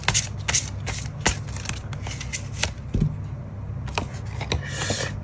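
Tarot cards shuffled by hand in a steady run of crisp riffling flicks and soft slaps, fairly close and moderately loud, with a few sharper card snaps as one is drawn, with no one speaking over them.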